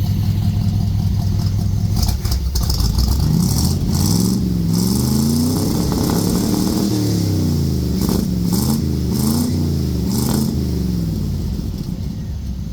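A 1964 Suburban's 283 V8 revs hard several times, the loud, close engine note rising and falling in repeated surges over a steady running rumble, with no voices.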